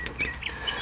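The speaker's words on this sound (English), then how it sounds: "if you hear the birds chirping and everything" Short bright chirps from birds outdoors, a few quick tweets over a low steady background hum.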